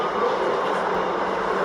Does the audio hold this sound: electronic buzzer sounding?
no